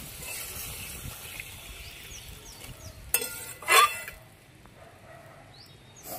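Water poured into a hot pan of tilapia fish curry with tomato, potato and fried spices, sizzling and hissing in a loud burst over the quieter background of cooking.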